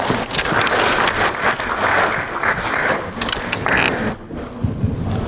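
Sustained audience applause at a business summit in Andhra Pradesh, steady and dense for several seconds, loud and fairly near, tapering slightly before swelling again.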